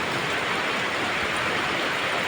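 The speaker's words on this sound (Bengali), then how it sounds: "কিশোরগঞ্জ প্রতিদিন এরকম করে বৃষ্টি আসে" Rain pours steadily in Kishoreganj, a dense, even hiss of falling water that stays loud and close for the whole short stretch, with no voices.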